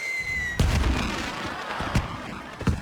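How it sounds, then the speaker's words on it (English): Cartoon fireworks go off over a castle station on the Island of Sodor. A high tone breaks into a bang, followed by crackling sparkle and a few more sharp pops, loud and near. "Thomas waited in the castle station and watched the fireworks"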